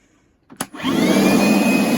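A click of a switch, then a DeWalt 20V cordless shop vacuum spins up and runs with a steady, loud whirring roar close by.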